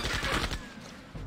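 A grenade attack in the RPG Septerra Core, a short dense burst of rapid explosive crackle that fades after about half a second into a lingering rumble, with a small thump near the end.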